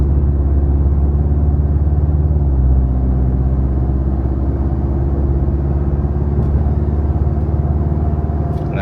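A 2024 Toyota Tacoma with a MagnaFlow exhaust drives past at around 45 mph, producing a sustained loud low engine rumble and road roar that holds steady across the pass.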